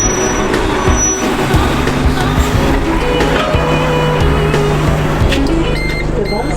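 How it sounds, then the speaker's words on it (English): A London bus pulls up with a loud continuous engine rumble and road noise close by, and a hiss like an air brake sits within the din. "Here's our bus."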